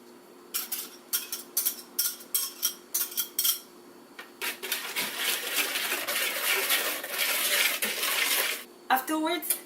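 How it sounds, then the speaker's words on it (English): Sour cream is mixed into a sugar and egg batter in a bowl, first as a run of quick rhythmic tapping strokes and then as a denser continuous whirring, ending in a few short clatters. "we need to add sour cream and mix it well"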